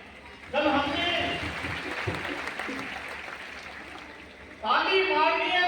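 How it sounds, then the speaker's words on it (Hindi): An audience at a Baisakhi harmony gathering breaks into sustained applause that swells, fades slightly, then surges again, while a voice carries over it. "ताली मारनी है तो जोर से मारिए।"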